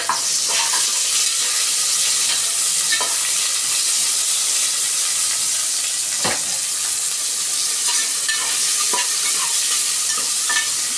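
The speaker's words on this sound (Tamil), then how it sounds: "வெங்காயத்தை நல்லா வதக்குவோங்க, ஒரு கலர் மாறுற வரைக்கும் வதக்குவோங்க" Chopped onions sautéing and being stirred in a hot pan for goat head (mutton thala) curry, a steady broadband sizzle with intermittent scraping stir clicks throughout, close and continuous with no talking.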